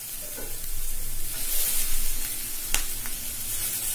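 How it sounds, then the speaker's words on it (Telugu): Finely chopped spinach drops into hot oil in a pan, a broad hissing sizzle that swells as the leaves go in, with a few faint stirring knocks and no voices. "ఈ సన్నగా కట్ చేసి పెట్టుకున్న పాలకూర వేసేసుకుందాం"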